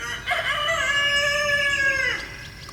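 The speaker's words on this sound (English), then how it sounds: "That's our big rooster." A rooster crows once, a long drawn-out harmonic call lasting about two seconds, close and loud with no talking.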